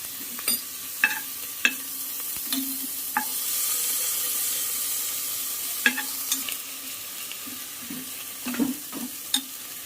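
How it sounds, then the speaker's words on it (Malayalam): Garlic, ginger and green chillies sizzle and fry in a hot pan, with steady frying hiss under repeated sharp clinks and scrapes of a spoon stirring, no talking. "വെളുത്തുള്ളി, പച്ചമുളക് അതിട്ട് കൊടുക്കാം. അതിൻ്റെ പച്ച മണം മാറുന്ന വരെ അതൊന്ന് വാട്ടിക്കൊടുക്കുക."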